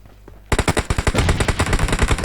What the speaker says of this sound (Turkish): Oha nasıl iki kişi sıkıyor?